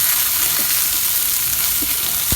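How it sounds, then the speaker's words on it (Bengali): Garlic and ginger paste frying in hot oil in a pan, a dense, loud, close hiss of sizzling with a few faint stirring knocks, brief and uninterrupted by speech. "এখন আমি রসুন বাটা, আদা বাটা ভেজে নিব"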